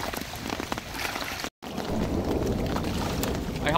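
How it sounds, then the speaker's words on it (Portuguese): Steady rain falls at the Billings reservoir during fishing after a storm, a dense hiss of drops spattering on the water, with a brief dropout partway through. "Tá chovendo aí. Aqui também tá chovendo."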